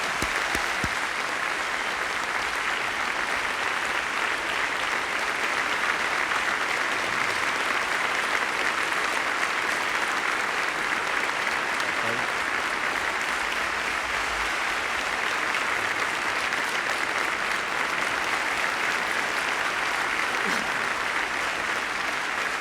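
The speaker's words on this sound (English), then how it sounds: "they will applaud as we welcome the two candidates, Governor Bush and Vice President Gore." Sustained audience applause welcoming George W. Bush and Al Gore to the stage at the 2000 U.S. presidential debate, a steady dense clapping that fills the hall for over twenty seconds without a break.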